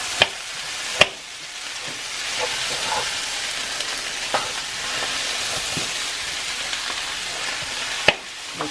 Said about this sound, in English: Mix the hamburger in with the refried beans.